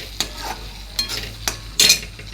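Masala frying in oil in a pan while being stirred for masala bhendi, a steady low sizzle broken by four scraping strokes of a spoon, the last one the loudest, with no voices.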